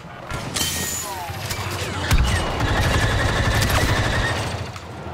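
Blaster fire from a Star Wars Battlefront 2 battle crackles in dense rapid bursts throughout, with a heavier impact near the middle and constant game noise underneath.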